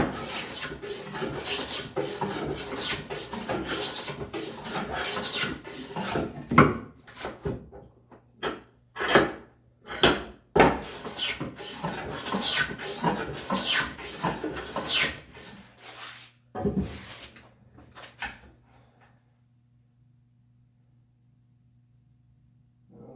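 A hand plane joints the edge of a walnut board in a series of close, rasping swipes, dense at first and then spaced into separate strokes, ending in quiet.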